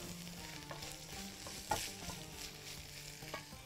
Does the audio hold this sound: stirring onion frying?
yes